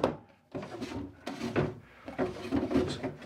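An unwaxed wooden drawer slides in and out on bare wood runners, giving several rough scraping, rubbing passes with a few knocks. It is close and fairly loud, with no voices.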